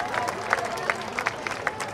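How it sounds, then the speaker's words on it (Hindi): Audience at a Diwali festival stage show claps for a judge, steady crowd applause with rhythmic hand claps under ambient hall noise. "जोरदार ताली हो जाए सर के लिए"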